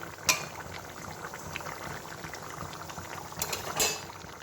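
Papaya and potato simmer in a covered pot of water, a faint, continuous bubbling close by with a couple of brief clinks of metal.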